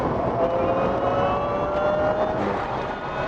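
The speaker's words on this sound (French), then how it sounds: "le bruit, c'est la transmission qui fait ce bruit-là" A Delta EVO-e electric car with a manual gearbox gives off a steady whine from its transmission, with thin tones slowly rising and shifting in pitch over a constant road rumble from inside the cabin as the car accelerates.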